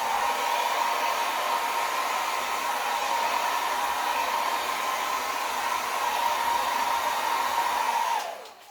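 A hair dryer blows steadily and loudly up close to push out acrylic pour paint, a continuous rushing hum with a constant whine that holds for several seconds before cutting off at the end.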